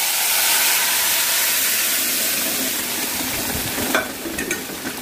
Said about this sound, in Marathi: तर आपण हे आता आपली चुक्याची भाजी इथे घालून घेऊया।